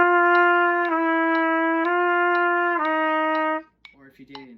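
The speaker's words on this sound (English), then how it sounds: "if you did it in quarter notes, starting a concert F and going down, sounds something like this" A brass instrument plays a descending lip slur exercise in even quarter notes from concert F, a clear sustained tone stepping down four times, loud and close, followed by a brief bit of speech at the end.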